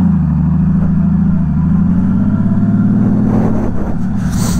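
A 1999 Honda Valkyrie F6C six-cylinder motorcycle accelerating hard from a standstill, its loud steady engine drone climbing through the revs close by, with no talking.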